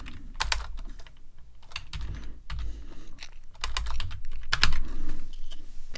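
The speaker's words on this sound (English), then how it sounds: "To add a comment, it's as simple as typing 2 forward slashes." Rapid clicking of fingers typing on a computer keyboard, close up, in irregular bursts with short pauses between them.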